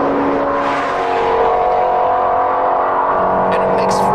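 A loud, close engine drones and rises steadily in pitch as it revs, filling the whole stretch with a rich, throaty roar.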